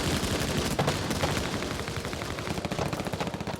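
Heavy machine gun fire on the D-Day beach at Juno, sustained rapid rattling bursts that stay loud and continuous for the whole span, with no talking.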